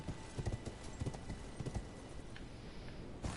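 A horse gallops in the video game Elden Ring, with steady rhythmic hoofbeats in repeated clusters over a soft ambient game background and no talking.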